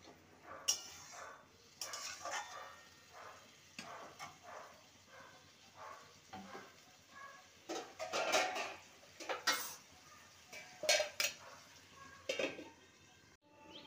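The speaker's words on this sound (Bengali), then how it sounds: "এবার ভালো করে নেড়ে নিয়ে ঢাকা দিয়ে সবজিগুলোকে ভালো মতো কুক করে নেব।" Okra curry being stirred in a pot with a spoon scraping and clinking against metal, then a lid set on top, in a series of irregular, fairly close knocks and scrapes with no talking.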